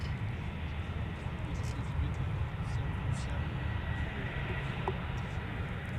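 Delta Airbus A350 arriving at Minneapolis–St. Paul airport, a steady distant engine rumble and roar that holds evenly throughout, faint and broadband, with no distinct peaks.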